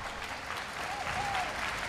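Crowd gathered for an evening youth choir commemoration concert applauds in a brief, fairly distant wash of clapping, with a faint whistle or voice rising briefly above it.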